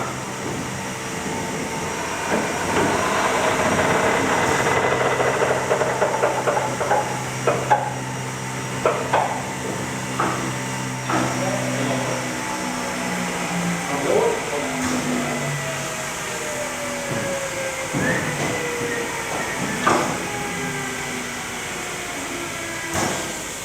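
Steam locomotive device starting up as the steam supply opens, a sustained mechanical whine with rising and falling tonal sweeps over a steady hiss, punctuated by metallic clanks and knocks.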